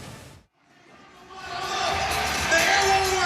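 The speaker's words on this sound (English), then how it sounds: "The crowd is going wild." Crowd noise swells inside the Wintrust Arena at a freestyle wrestling event, rising from a brief hush into a loud, sustained roar of cheering and whoops.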